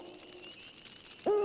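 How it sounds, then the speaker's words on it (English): A cartoon owl gives a single clear hoot at the end of a short stretch of soft background music, loud and close. "It's only an owl."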